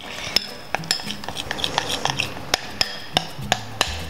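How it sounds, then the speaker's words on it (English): A spoon stirs melted chocolate in a bowl, scraping steadily with sharp clinks against the bowl's side about every half second, close and clear. "mix it with a spoon"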